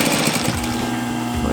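A sewing machine runs continuously, stitching a casing seam on a fabric scrub cap, a steady loud mechanical whir with no pauses.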